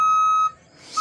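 Plow machine gives a steady loud electronic beep right after being set to run, one long tone that cuts off, then starts again at the end.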